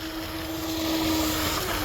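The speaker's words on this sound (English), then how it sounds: "This is really the first day I've been able to come out here and really like play with the boat on some flat water." A Proboat Jetstream RC jet boat with a Spektrum Firma 120A 6S motor controller runs on flat water: a steady engine whine with a thin high-pitched motor tone beneath wind and splashing hiss, fairly distant.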